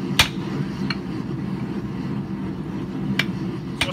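A hammer strikes a handled hot cut set on a 1.5 inch square bar of hot steel during blacksmith forging, giving four sharp, irregularly spaced metallic hits over a low background rumble.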